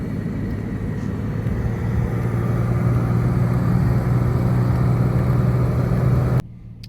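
A Jaguar XJ-S drives into town with a steady, close, mid-pitched engine drone and a low hum that holds evenly for about six seconds, then cuts off abruptly, with no voices.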